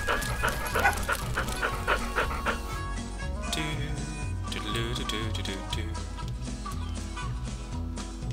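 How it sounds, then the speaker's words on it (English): A farm dog in Agricultural Simulator 2013 barks in rapid yappy bursts and pants, loud and close, with chickens clucking in the background and someone talking briefly. "Dog's still just as loud as ever and yappy as ever"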